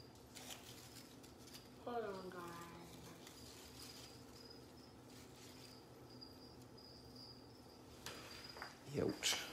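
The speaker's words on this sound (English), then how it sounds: "got a lot of crickets" Faint high-pitched crickets chirp in steady trills beneath quiet background noise, with a brief voice-like sound and a louder rustle near the end.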